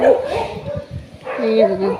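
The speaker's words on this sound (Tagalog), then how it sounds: "Tapos maraming aso dyan." Dogs bark and yip around a residential neighbourhood, with short, fairly close yelps in bursts alongside voices talking.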